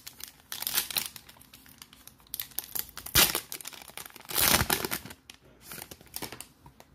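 Foil wrapper of a 2020 Prizm NASCAR parallel trading card pack being torn open and crinkled, with sharp crackling bursts and rustling spread over several seconds, close up and fairly loud, no talking.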